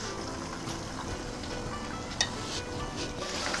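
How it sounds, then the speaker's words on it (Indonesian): Chicken frying in a modest amount of hot oil, a steady close sizzle and crackle that continues evenly throughout, with one brief sharper pop partway through and no speech. "minyak panas lalu goreng ayam"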